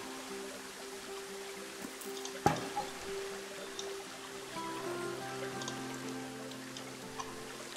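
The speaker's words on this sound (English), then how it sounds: "We've got a little waterfall now." Small waterfall in the zoo-building game Planet Zoo, a soft steady trickle and splash of falling water, faint and continuous, with a sharp click and a few quiet tones over it.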